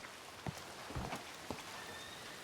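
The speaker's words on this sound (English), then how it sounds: "it's raining" Rain falls in a Red Dead Redemption roleplay game, a steady, soft hiss of downpour with a few louder drop-like taps and thuds scattered through it, and no talking.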